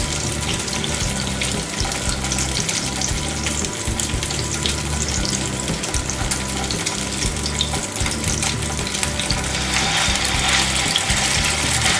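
Pieces for semai shahi tukra fry steadily in a pan of oil over medium heat, a continuous loud sizzle and crackle running the full length with no talking.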